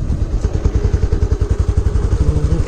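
A motorcycle engine runs close by in a rapid, regular thumping rhythm, a low, clattery idle that holds steady throughout without talking.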